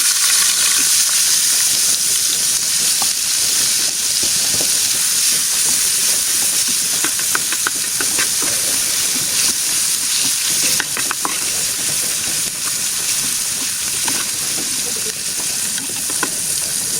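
Onions frying in hot oil alongside fried dandi fish, a dense continuous sizzle and hiss with occasional crackles and light stirring, loud and close throughout.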